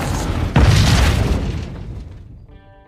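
A spacecraft explodes in a single loud, deep boom that bursts in suddenly, then rolls and fades slowly over a couple of seconds, ending in a faint ringing tail.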